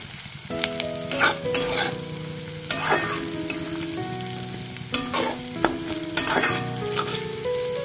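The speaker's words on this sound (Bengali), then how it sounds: "চালটা আমার 5 মিনিটের মতো ভাজা হয়ে গেছে।" Rice fries in a pan, crackling and sizzling close by while a spoon scrapes and stirs it in repeated strokes, with a few sharp clinks against the pan and a light background melody.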